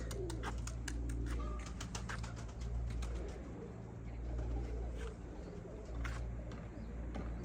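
Young pigeons coo and flutter nearby among other bird chirps as they are released from a rooftop loft, with soft wingbeats and a constant low hum in the background.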